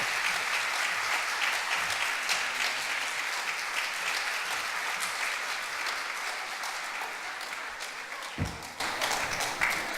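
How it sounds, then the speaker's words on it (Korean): A church congregation gives warm, sustained applause that fills the room for several seconds, steady and even, with one sharp thump near the end. "하나님 앞에 영광의 박수를 뜨겁게 드리면서"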